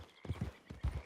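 Hooves of a horse in the video game Red Dead Redemption 2 clip-clop in two quick pairs of soft, close footfalls at an easy walking pace.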